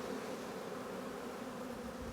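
Newly hatched honeybee chewing out of its wax cell capping at the hive, with a steady, close insect buzz holding evenly throughout and no talking.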